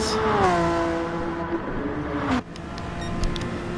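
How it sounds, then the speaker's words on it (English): A Honda NSX GT3 race car in Gran Turismo on the Dragon Trail Seaside circuit, engine held at high revs in a steady whining drone that shifts pitch, then drops after an upshift. "Yeah, it looks like they are revving it all the way out."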